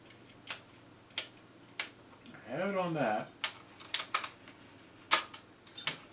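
Yamaha PC-9 cassette deck with a newly installed belt, its mechanism repeatedly engaging and stopping: sharp mechanical clicks and clunks, with a short whirring motor sweep in the middle, close and fairly quiet.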